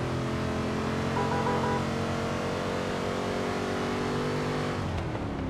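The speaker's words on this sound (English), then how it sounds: "Love the sound of this engine" In Forza Horizon 3, a 1970 Chevelle SS 454 V8 drones loud and close at a steady cruise, its engine note climbing slightly before dropping sharply near the end as the revs fall, with no voices present.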